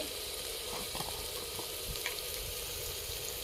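Chicken frying in oil in a clay pot over an outdoor wood fire, a steady broadband sizzle with faint crackles and a few soft clinks, fairly quiet and even throughout with no talk.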